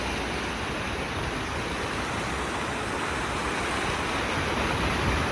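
River water pours and rushes steadily, a loud, unbroken broadband roar of falling water filling the scene from start to finish.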